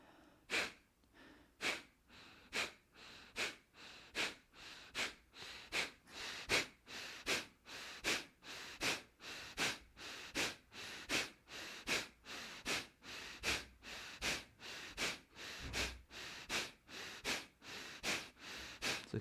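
Steady rhythmic breathing exercise with forceful active exhales through the nose and quiet passive inhales, about thirty sharp, evenly spaced puffs at a close, moderate level with no talking.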